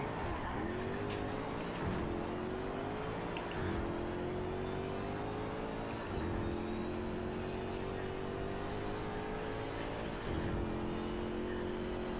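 Racing engines in Project Cars 3 whine and rise in pitch over a constant road rumble, with short bumps and thuds as a car closes in from behind.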